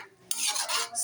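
Coconut milk (kakanggata) pouring into a pot of papaya and pork, a brief close rushing splash that starts abruptly and continues steadily, with no talk.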